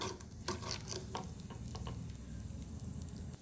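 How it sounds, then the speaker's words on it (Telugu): Mustard seeds, cumin, chana dal and urad dal fry in a couple of spoons of ghee in a small pan, with a close, crackling sizzle and sharp popping ticks at the start that settle into a steady fry. "పోపు గింజలు ఆవాలు జీలకర్ర శనగపప్పు మినపప్పు వేసి ఫ్రై చేసుకుందాం"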